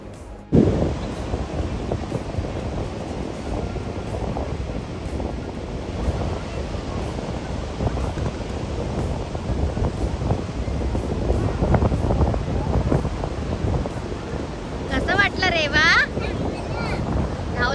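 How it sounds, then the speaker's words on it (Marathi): Ocean waves at Shrivardhan beach on the Konkan coast surge in a steady, loud broadband wash with gusts of wind buffeting the microphone throughout. "लाटा काय सुंदर दिसत आहेत ना ह्या"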